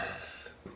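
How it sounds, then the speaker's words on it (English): A long, drawn-out human belch sustained at near range, tapering off gradually, with a brief extra burst near the end. "he's asked me to belch his name really, really long with a lot of L's"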